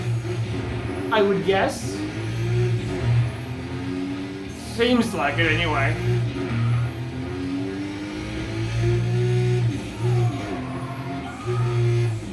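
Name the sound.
car engine in video game Burnout Paradise, Nissan GTR lookalike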